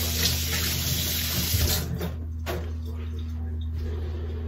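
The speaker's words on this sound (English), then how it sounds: "Gonna wash my hand" Tap water runs into a sink for handwashing while preparing a fruit shake, a steady broadband rush with a constant low hum underneath that eases partway through.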